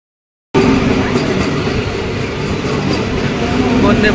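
A train rumbles steadily at a station platform on the Modhupur–Deoghar route, with a broad, continuous roar that starts abruptly and holds loud throughout.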